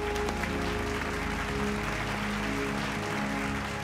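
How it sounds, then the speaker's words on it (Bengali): Studio audience on a televised quiz show clapping, a dense, steady wash of applause lasting the whole stretch with a low hum beneath it and no talk. "জোরে হাততালি হয়ে যাক।"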